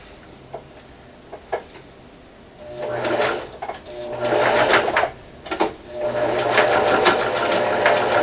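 A sewing machine stitches a half-inch seam along one side of a Halloween haunt robe. Short quiet taps come first, then several loud, close bursts of rapid mechanical stitching separated by brief pauses.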